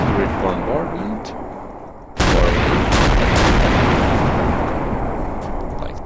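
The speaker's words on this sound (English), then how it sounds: "you can see I can have a somewhat accurate bombardment" Artillery bombardment from ACF weaponry in Garry's Mod: a steady low rumble, then a heavy booming blast followed by rolling explosions and crackling impacts, with a voice talking over it.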